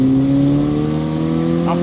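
A Simca 1000 Rallye 2 rally car's engine holds a strong, steady tone close by on a slippery stage, loud and sustained with a brief flicker of change near the end.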